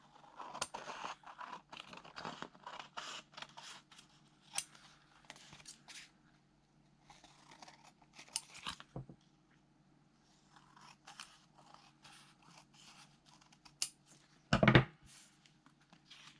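Scissors make quiet, close snips while trimming the edges of a paper tag for a junk journal, in a few irregular bursts with pauses and one sharp louder sound near the end.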